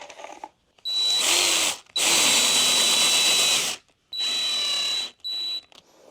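A power drill countersinks screw holes in shower board, running in four short, loud whirring bursts separated by brief silences, each burst carrying a sharp high whine.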